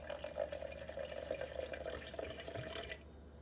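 Water poured into a container on a kitchen scale, weighing out 120 grams for an einkorn sourdough starter: a steady close trickle lasting about three seconds, then stopping abruptly.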